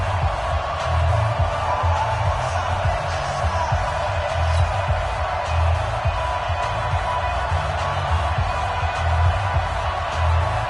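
A roaring NFL stadium crowd in an EA Sports football game before a Washington Redskins versus New Orleans Saints matchup, a steady loud wash of cheering with low thumping beneath it.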